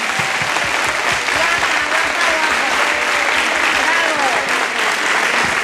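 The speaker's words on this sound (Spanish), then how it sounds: "Un aplauso para ella" Loud, sustained applause from a crowd at a tribute to elderly people in Trasobares, following a poetry reading, with voices and cheers mixed into the clapping.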